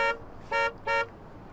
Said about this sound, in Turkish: Çal çal, kornayı çal.